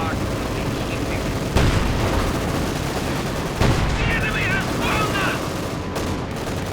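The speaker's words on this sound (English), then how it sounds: "T-34 taking direct fire here." Tank cannon fire and battlefield gunfire in Company of Heroes 2 as a T-34 takes direct fire, with two sharp heavy blasts over a dense bed of combat noise and a commentator talking throughout.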